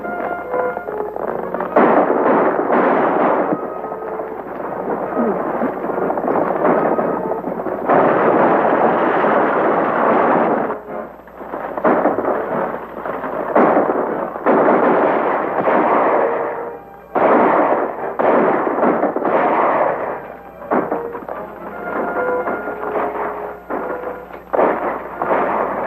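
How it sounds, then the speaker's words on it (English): Loud, dense bursts of gunfire sound in repeated volleys over about twenty-five seconds, with short gaps between clusters of overlapping shots and booming echoes. "Whoever's doing that shooting is helping us."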